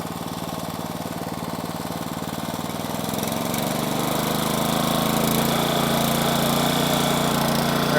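An impact mill rock crusher for gold ore runs with an open belt drive, its engine chugging loudly up close and then revving up to a steady, heavier roar with no talking.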